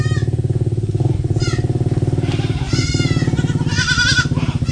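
Goats bleating loudly and repeatedly on a Philippine goat farm, several wavering calls overlapping in a steady chorus with a low engine-like rumble beneath, no talk.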